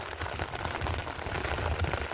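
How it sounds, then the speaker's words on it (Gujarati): A light, unseasonal winter rain in rural Gujarat patters softly and steadily, a faint even hiss of drops on surfaces with no voices. "તમે જોઈ શકતા હશો વરસાદ કેવો છે અહીંયા ધીમો ધીમો પડે છે"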